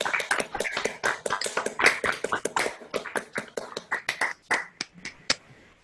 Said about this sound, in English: Could you all please just unmute and give all of these composers a hand?